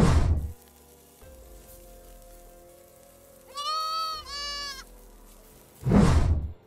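An animated goat bleats in two quick wavering calls in the middle, with sizzling, rain-like noise bursts at the start and end and a low hum underneath.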